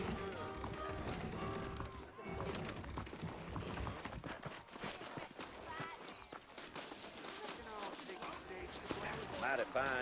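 Horse hooves clip-clop at a steady walking pace in Red Dead Redemption, mid-distance, beneath background music and a talking voice.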